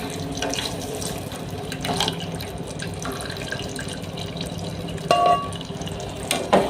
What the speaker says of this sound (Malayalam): ഇനി നമുക്കിതിനകത്തോട്ട് ഉരുക്കി വച്ചിരിക്കുന്ന നെയ്യ് ഒഴിച്ചു കൊടുക്കാം